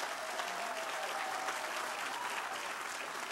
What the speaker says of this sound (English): Let's give her a round of applause for all her hard work on this effort.